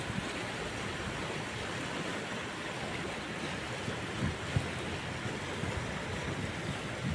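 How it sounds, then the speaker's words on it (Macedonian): Water of the Dragor river flowing through Bitola on a snowy April day, a steady broadband rush with no breaks, moderately loud and continuous throughout with no voices. "Пелистерска вода, која заминува кон Пелагонија."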